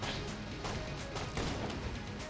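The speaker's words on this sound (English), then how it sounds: "I'm hitting myself with the explosion" Explosions in a modded dungeon-crawling shooter video game, heard as dense, noisy crashing bursts that rumble on steadily at a moderate level throughout.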